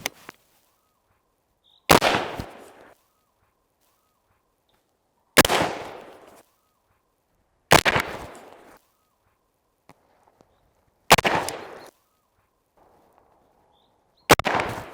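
Five loud, sharp gunshots from a Daniel Defense DDM4V7 AR-15 rifle on a shooting range ring out singly at irregular intervals of roughly two to three seconds, each with a short echoing tail, and there is quiet between them.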